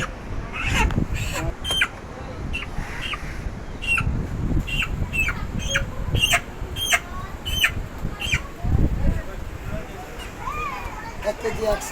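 Chickens at a poultry market squawk in loud, repeated bursts close by, mingled with flapping and clucking, while people talk in the background.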